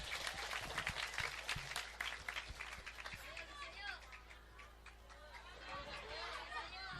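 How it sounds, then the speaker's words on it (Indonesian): Audience at an Islamic sermon clapping for a boy named Ramadhani, a faint, distant patter of applause mixed with crowd chatter and children's voices, tapering off after a few seconds. "Tepuk tangan dulu untuk Ramadhani."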